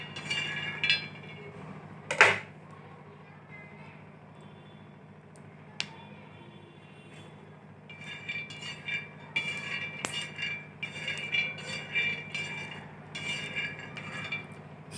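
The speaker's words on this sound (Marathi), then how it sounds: "आता शेंगदाणे भाजत आहे." Peanuts dry-roasting in a pan, with scattered metallic clinks and scraping rattles over a low steady hum, including one sharp knock early, then busier, denser clatter of stirring in the second half.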